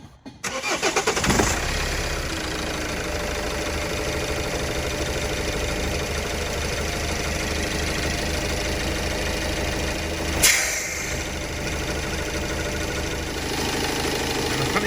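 A Vauxhall Movano van with an exhaust pressure fault cranks and fires up close by, then settles into a loud, steady idle with a brief surge partway through.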